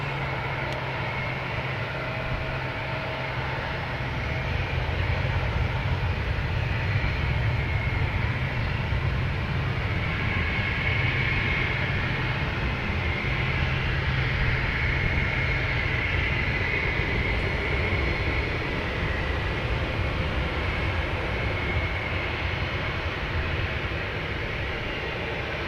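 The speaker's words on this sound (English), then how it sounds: "All right, clear for takeoff. Spirit Airlines heading to Detroit." A Spirit Airlines airliner takes off at Boston Logan Airport, its jet engines making a loud, sustained roar that swells slightly and stays heavy throughout, with no talking over it.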